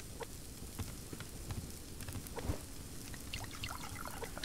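Water poured onto crops in the survival video game Subsistence, a soft continuous trickle with scattered droplet patter, fairly quiet and heard alone.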